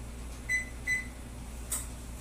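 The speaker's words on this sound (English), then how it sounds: "So I'll preset my oven for 425" Two short electronic beeps from a kitchen oven's control panel as it is set to preheat to 425 degrees, spaced apart and clear over a low steady room hum, followed by a faint click.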